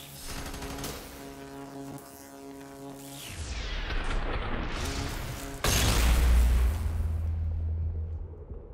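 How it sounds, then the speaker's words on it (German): An explosion goes off in the shooter game F.E.A.R. 3, a loud booming blast with rumbling debris that follows tonal background music, heavy low-end impact near the middle of the clip. "Der Scheiß explodiert."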